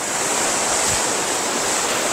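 Sea waves at Turtle Beach, Hawkes Bay, heard as a continuous loud roar of surf mixed with wind buffeting the microphone, without any voices.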